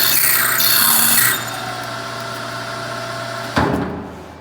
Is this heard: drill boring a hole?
yes